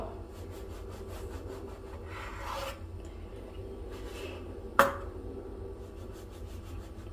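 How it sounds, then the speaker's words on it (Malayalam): Knife cutting slices of bread into small cubes: soft, irregular scraping and sawing strokes up close, with one sharp tap of the blade against the board partway through, and no talk. "ചെറിയ ചെറിയ ചെറിയ ക്യൂബ്സായിട്ട് കട്ട് ചെയ്യണം കേട്ടോ"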